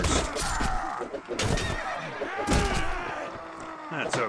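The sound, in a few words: horse neighing in video game Mount & Blade Warband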